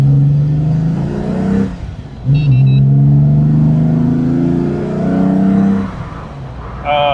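Throttle blips from a BMW S38 inline-six swapped into an E30 Touring wagon, a loud, rising engine drone that climbs, dips and climbs again, with a brief word spoken inside the cabin.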